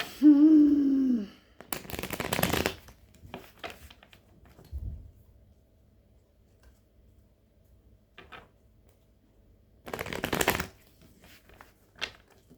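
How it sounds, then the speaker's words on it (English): Soft papery riffling of tarot cards being shuffled comes in two brisk bursts separated by quiet, with a brief voice-like sound at the start and small clicks between. "I'm going to have to shuffle them again now."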